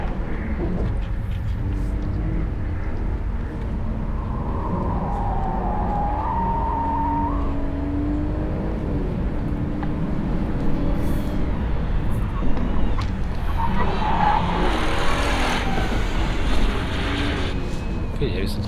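A BMW Alpina B3 or Mercedes-AMG A45 slides through a corner on a race track, heard from a distance as engine tone and tyre scrub that rise and fall. People talk nearby.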